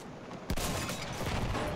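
A rocket launcher fires at enemy heavy tanks in the video game Battlefield 1 on Monte Grappa, a single sharp blast followed by a rushing, crackling roar of the rocket and distant battle noise.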